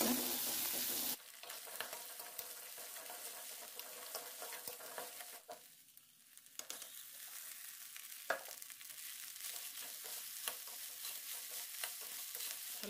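Rice frying in a pan with salt and turmeric, a steady crackling sizzle broken by scraping stirs and clatters of a utensil, close and moderately loud after a brief louder burst at the start.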